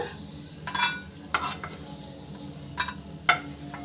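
Cashews roasting in a pan for bread halwa, with a few scattered spoon scrapes and soft stirring bursts over a faint, quiet sizzle.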